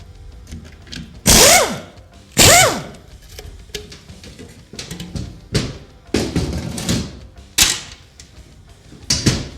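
Ratchet and 13mm socket loosening transmission pan bolts, heard as sharp clicking bursts and metallic rasps at irregular intervals, with two loud strikes early on, close by and without speech.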